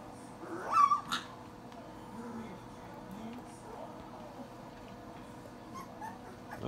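Eighteen-day-old puppies in a litter of nine whimper and yip faintly, with one brief squealing cry early on, then soft scattered whines over a quiet, steady background.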